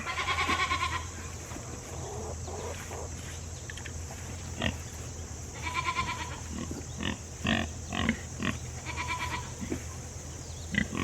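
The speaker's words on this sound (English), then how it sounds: "Okay, Rennie, you want to feed the pigs?" Farm pigs at feeding time grunt, squeal and snort in repeated bursts, with goat-like bleats mixed in over a steady outdoor background hum.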